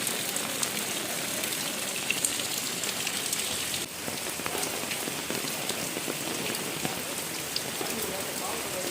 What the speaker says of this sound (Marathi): जोराचा पाऊस